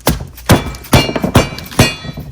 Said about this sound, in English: First, I will try the brute force method, which is just whacking it with a rubber mallet.